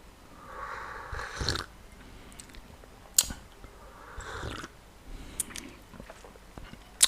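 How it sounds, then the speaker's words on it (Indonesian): Coffee being sipped with close, noisy slurps, a few separate sips spaced through a quiet room with no talking. "kita seruput dulu kopinya ya"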